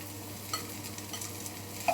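Bell peppers are stirred into onions that have been sautéing in a pan, making a quiet steady sizzle with light scrapes and a couple of clinks of the utensil, close by with no talk.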